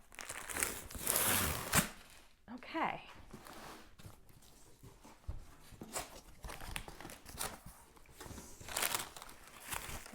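A delivery box of farm produce is opened, with loud crinkling and tearing of packing paper and insulation in repeated bursts, close to the microphone; a person speaks briefly among the rustling.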